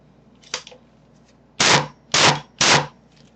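Spyder Aggressor paintball marker fired while degassing: three sharp, loud pneumatic pops in steady succession, each a short burst of air, preceded by a fainter click, with no talking.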